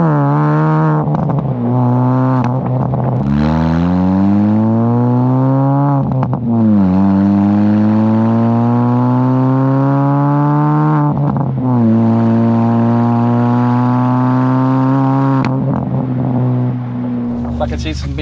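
A supercharged Mini Cooper S R53 is driven hard around a race track, its engine loud and close, revving up through each gear in rising sweeps with short pauses at the shifts, over occasional talk.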